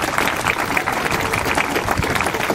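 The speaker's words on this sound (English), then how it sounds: "So we want to give them a clap as well." A church congregation claps for three young boys who carried bags and baggage, a dense, even roar of hands sustained at moderate loudness without talk.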